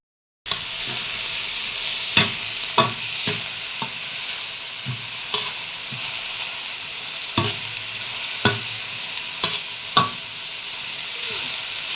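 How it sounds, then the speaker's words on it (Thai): Dry stir-fried minced pork with holy basil, onion and dried chilies sizzles steadily in a hot pan, with repeated sharp spatula scrapes and clatters over the crackle and no talking. "พอแล้วเราจะผัด กระเพราหมูสับแห้งใส่หัวหอมนะ"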